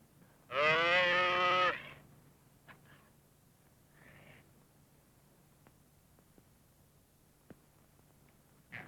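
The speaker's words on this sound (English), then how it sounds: "Sounds like a calf blowing." A calf bawling in a single loud, drawn-out bleating cry near the start, followed by quiet room tone and a few faint knocks.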